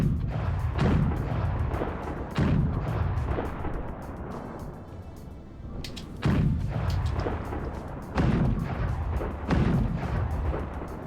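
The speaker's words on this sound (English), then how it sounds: "It's us just shelling a Lucas ship over there." Naval guns in a video game fire repeated heavy booms at a distant ship, about six deep blasts spaced a second or two apart, each trailing off into a rumbling roar, with no talking.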